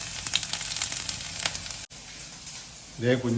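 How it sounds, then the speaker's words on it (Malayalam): Garlic and ginger sautéing in a pan for an okra dish, giving a steady close sizzle through the first half before it drops away and a voice starts speaking. "ആദ്യം വേണ്ട വെളുത്തുള്ളി ഇഞ്ചിയും കൂടെ ഒന്ന് വഴറ്റണം"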